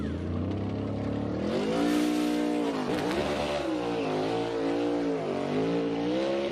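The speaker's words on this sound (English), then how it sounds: "A lot of wheel spin." A NASCAR race car accelerates hard out of its pit box with heavy wheel spin, the engine note climbing and dipping through rapid revs, loud and close with a brief tire squeal.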